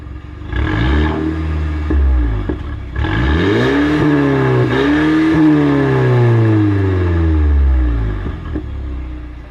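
A YouTuber's car engine revs up several times, each blip rising and falling in pitch with a rumbling, clattering idle between, loud and close with no talking.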